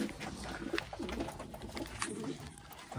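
Taiwanese Wantai racing pigeons coo softly and repeatedly at close range, their low throaty calls standing alone against quiet room noise.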